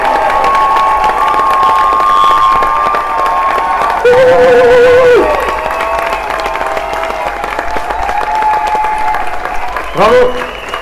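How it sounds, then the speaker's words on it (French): Rally crowd at a May Day gathering in Brussels marking the end of an eight-week Delhaize workers' strike breaks into sustained applause and cheering, with a brief louder burst of shouts midway and another near the end. "accueillons chaleureusement un tonnerre d'applaudissements pour Agnes Babinska."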